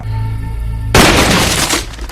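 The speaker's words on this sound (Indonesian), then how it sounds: "Tiba-tiba terjadi tembakan yang tak jelas arah tujuannya." A sudden loud burst of gunfire in an action film cuts in after a low rumbling hum, followed by dense crackling noise that stays loud to the end.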